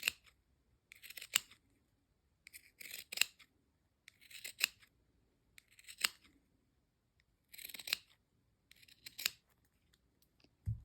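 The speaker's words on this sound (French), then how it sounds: "je vais prendre des ciseaux cranteurs et je vais cranter tout le tour" Pinking shears notch all around a fabric seam allowance while sewing a Craftine Citiz shorts pattern, giving seven separate bursts of crisp, close snipping, each a quick cluster of cuts with short quiet pauses between.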